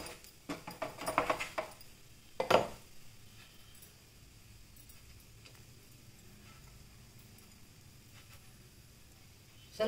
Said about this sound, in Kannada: ಇದು ನೀಟಾಗಿ ಹೀಗೆ ಕಟ್ ಮಾಡ್ಕೊಳ್ಳಿ